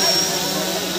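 A drone flies overhead at an outdoor wedding with dance functions, giving a steady, loud broadband whirring drone that fills the moment without pause.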